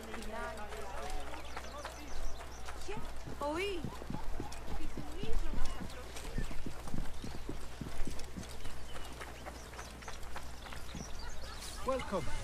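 Horse hooves clip-clopping in Assassin's Creed Origins on Xbox One, a steady trotting rhythm running throughout while someone talks over the game audio.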